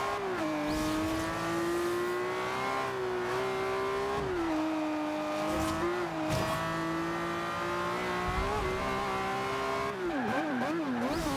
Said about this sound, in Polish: Ale się dobrze jeździ w tej klasie tym Lambosem.